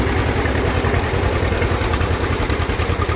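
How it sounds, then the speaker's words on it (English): A 1944 John Deere B tractor engine idles steadily with a low, even chugging that stays constant throughout, loud and close, with no voices. "The engine itself sounds good, no knocks or anything abnormal"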